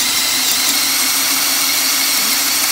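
Electric drill running at full power in first gear, boring into wood with a FAMAG German auger bit, a steady loud continuous whir and grinding hiss without pause, no voices.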